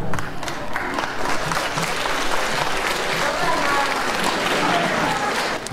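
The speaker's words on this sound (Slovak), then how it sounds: "Ďakujeme veľmi pekne za potlesk" Continuous audience applause at a concert in Topoľčany, a dense wash of many hands clapping at steady volume, with crowd voices mixed in.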